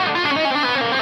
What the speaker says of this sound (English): we're gonna do a pseudo whammy type effect,